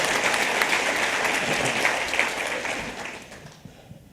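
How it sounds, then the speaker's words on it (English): Steady audience applause at an annual general meeting welcoming incoming trustees, a full, even wash of clapping that holds for a few seconds and then fades out toward the end. "we want to extend another round of applause for the incoming trustees"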